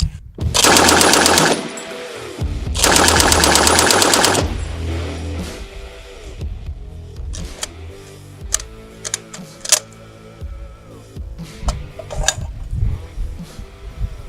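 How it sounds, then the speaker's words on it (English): A fully automatic World War II American rifle fed from a 20-round magazine fires two long, loud, rapid bursts close by, followed by scattered clatter and handling noises as the shooting stops. "So this one is fully automatic with 20 round magazines. So let's go ahead and lay down some hate with it."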